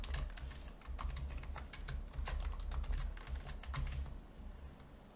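Computer keyboard typing a restore password, rapid irregular key clicks, close and fairly quiet, continuing for several seconds over a low background hum.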